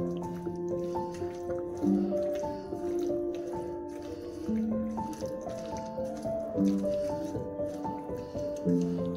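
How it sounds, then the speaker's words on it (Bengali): Chicken pieces get mixed by hand with flour and mustard oil, giving soft wet squishing and sticky slapping in an irregular rhythm, up close, with quiet background tones throughout. "এবার সমস্ত উপকরণটা ভালো করে মিশিয়ে নেব।"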